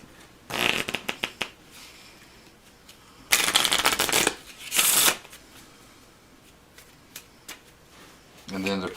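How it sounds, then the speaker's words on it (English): Board game cards shuffled by hand for a gladiator strategy game, with bursts of riffling and flicking around one, three to four and five seconds, then quieter handling and a short rattle at the end. "Now these are all shuffled together."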